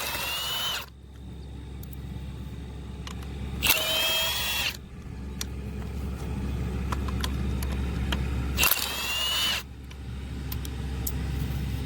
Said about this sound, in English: So now we'll come over and remove these 5 or 6 15mm bolts over here.